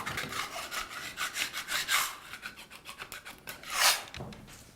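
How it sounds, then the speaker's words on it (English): Loose plaster being gouged out of a wall crack with a hand tool, a steady series of close, rough scraping strokes with two louder rasps near the end, no talk. "When you have cracks like this, it's always good to actually start gouging them out."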